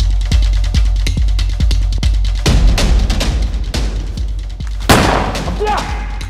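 Gunfire sound effect in a safety training piece on armed terror attacks: a rapid burst of loud shots and booming blasts, with a sharp heavy impact near the end, under a voice speaking throughout.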